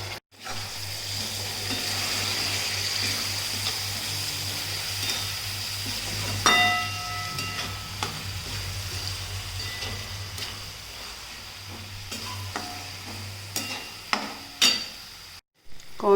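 Boiled sweet corn frying in a pan with cumin and coriander for pulao: a continuous hiss and crackle under a low hum, broken by scattered scrapes and knocks of a spoon stirring and tapping the pan.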